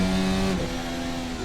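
Formula 1 race cars lap the Helsinki street circuit in the Assetto Corsa racing game, their engines holding a high, sustained whine that drops sharply on a quick shift before settling onto a new steady tone.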